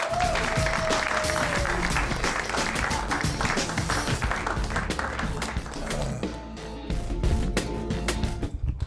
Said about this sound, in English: big round of applause for your headliner, Brian Babylon